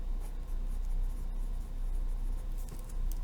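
A theorem written out by hand for a polygon angle relationships lesson, a steady, close scratching and tapping of pen strokes over a constant low hum, with no talking.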